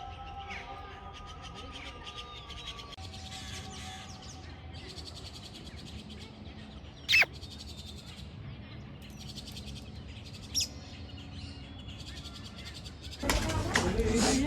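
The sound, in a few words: parrot-like bird calling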